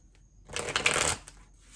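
Tarot cards shuffled in a single burst of rapid riffling, close and fairly loud, rising and fading within a couple of seconds, with no voice over it.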